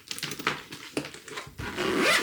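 A toiletry bag being zipped shut: several quick, close zipper rasps in short bursts, ending in one longer steady pull, with no talking.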